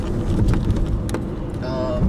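Rain falls steadily on Wentworth Street in Melbourne, a broad constant hiss and patter with passing traffic noise underneath and no voices.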